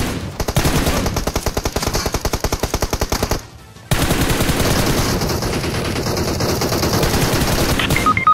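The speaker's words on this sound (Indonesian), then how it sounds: "Jangan kau tembak terus di situ bos ya." Sustained automatic gunfire from a shooter video game, loud rapid bursts firing in a steady rhythm, a brief pause, then another long continuous burst with no talking.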